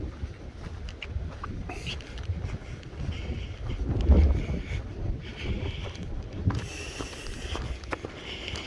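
Wind gusting across an open meadow on a mountain ridge line, a rough buffeting rush against the microphone that swells and fades, fairly faint and with no one talking.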